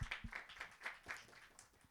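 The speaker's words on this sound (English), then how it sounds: "big round of applause for Nishant" A small quiz-show audience claps for a contestant, a brief patter of hand claps in a quick even rhythm, faint and close, with no talk.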